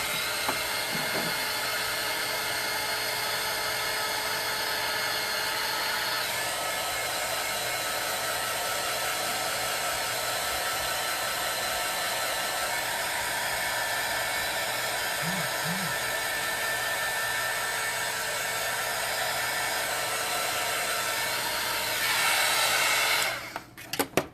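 A hair dryer drying acrylic paint on a reverse canvas, a steady close whirring blow that runs unbroken for over twenty seconds, then clicks off at the end with a couple of small knocks.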